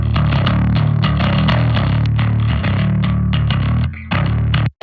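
Bass guitar played through a Modern Music Solutions S drive distortion pedal in front of an amp, a loud, snarling, gritty riff of heavy nu metal chugs with a short gap and a sudden cutoff at the end.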